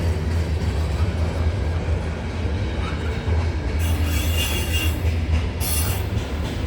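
CN freight train rolling past at night on the York Subdivision with two rear DPU locomotives, a steady heavy rumble of railcars and wheels with brief high squeals, loud and close throughout.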